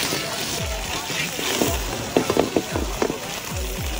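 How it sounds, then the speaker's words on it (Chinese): Small yellow croaker fish deep-frying in oil at an open-air rural market restaurant in Shandong, a steady crackling sizzle with scattered sharper pops and spatter bursts toward the middle. "油炸小黄鲫鱼"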